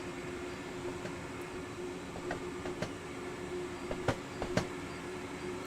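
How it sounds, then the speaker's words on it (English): Train rumbling along in Train Sim World on the Mittenwaldbahn mountain line, a faint steady running drone with a low hum and occasional clicks and clunks. "I'm just listening to the train, trying to hear if it's speeding up or not."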